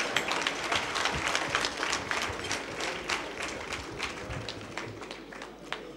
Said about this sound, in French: Je vous demande de m'acclamer très fort.